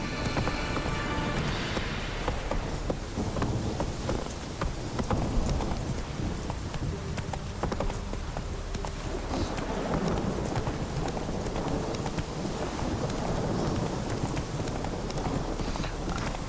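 Hooves of the horse Roach clip-clop steadily at a gallop in The Witcher 3, a continuous rhythmic pounding, loud and close, with game ambience around it and no talking.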